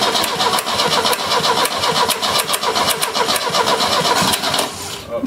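A 30-year-dormant Opel GT engine cranking with a fast, rhythmic starter chatter, loud and close, the engine sputtering as it tries to catch and run.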